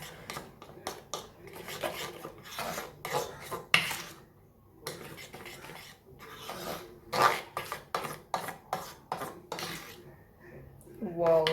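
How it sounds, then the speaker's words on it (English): Spoon scraping and stirring chocolate truffle mixture in a bowl, a run of close, uneven rasping strokes with short pauses, while a voice talks over parts of it. "Now let's just mix this up."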